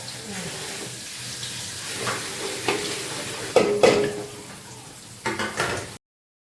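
Onions sautéing in oil in a pan in a home kitchen give off a steady sizzling hiss, broken by a few louder bursts of stirring and scraping near the end.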